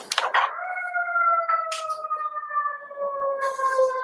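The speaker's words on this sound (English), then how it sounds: "The sirens." Emergency vehicle siren in a trial exhibit recording, a steady wailing tone holding loud and unbroken across the clip, with brief noisy bursts near the start and a few faint background clicks.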